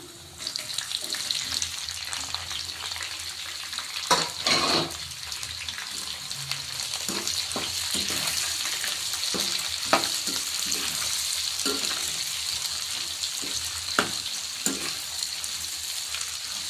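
Long-sliced onions fry in oil with urad and chana dal for onion palya, a continuous close sizzle broken by several sharp spatula scrapes and stirs.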